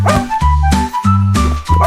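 A puppy's yipping barks repeat in a quick bouncy rhythm over a loud, busy backing track in a French children's nursery song, the barks and music sharing the foreground.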